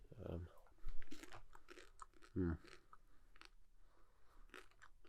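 Crunchy bites and chewing of small chocolate mini eggs close to the mic, a few distinct crunch bursts between stretches of talking.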